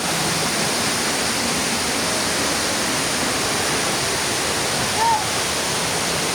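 Loud, steady rushing water at Wawa Dam fills the whole clip, a continuous broadband roar like a nearby waterfall.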